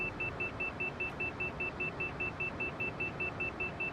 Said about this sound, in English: I apologize for the loud beeping in your ear.